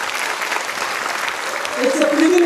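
An audience at the SOA Sahitya Samman 2025 award ceremony for Javed Akhtar at a literary festival applauds in a brief burst of dense clapping, and a voice begins speaking over it near the end.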